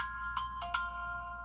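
A new iPhone ringtone called Quad plays alone: a brief melodic phrase of a few bright, bell-like chime notes in quick succession, steady and clear at moderate loudness.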